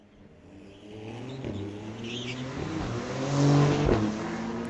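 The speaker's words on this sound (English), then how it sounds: "Beautiful car on the start line, 2023 Porsche." A 2023 Porsche drag car sits on the start line at a street-legal drag strip, its engine rumbling and revving steadily louder over nearly five seconds, building to a peak near the end.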